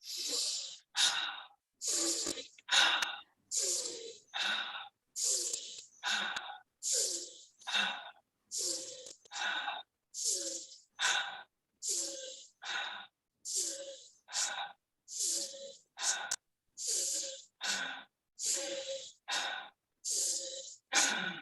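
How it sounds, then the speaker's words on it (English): Rapid rhythmic breathing during a yoga session, a steady series of about two dozen sharp, forceful huffs in a regular pulse, each with a slight breathy hiss, close and fairly loud, with no talking. "We'll start with nose inhale and mouth exhale."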